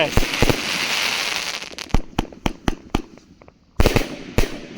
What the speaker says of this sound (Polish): No i to są fajerwerki.